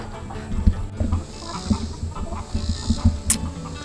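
Chickens from a backyard homestead flock of about 30 birds cluck and call in scattered bursts, some close and some farther off, over a steady outdoor background with no talking.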